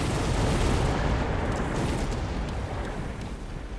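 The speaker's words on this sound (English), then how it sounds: "On this side I was hoping the missile would kill a few of the Mustangs" A missile blast hitting Mustang units in a strategy video game: a loud, dense roaring rumble that holds steady and then slowly fades over about four seconds.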